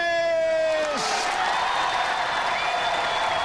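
Studio audience cheering and applauding on the Robot Wars television show, a wash of claps and whoops rising after a held announcer's tone fades, continuing steadily to the end.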